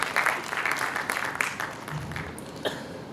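Applause from a conference audience at an Urdu literary session on children's literature, a dense, steady patter of many hands clapping close by that thins out toward the end.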